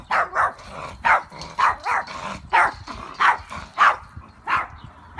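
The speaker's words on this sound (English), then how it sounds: "Sorry about the barking." A dog barks repeatedly outdoors by a house, around a dozen sharp, evenly spaced woofs in quick succession, loud and close, with no other sounds between them.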